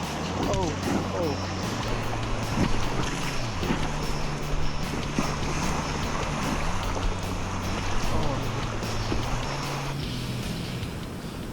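High river waves slap and rush around a raft on a Vietnamese river, just past a waterfall. The churning water roars loud and continuous under shouting and talk.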